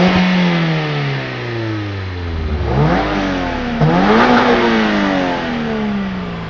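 A 2022 Toyota GR86 or Mazda MX-5 Miata, a lightweight rear-wheel-drive manual sports car, heard from outside as its engine revs with rising and falling pitch, surging twice in quick succession with no talk.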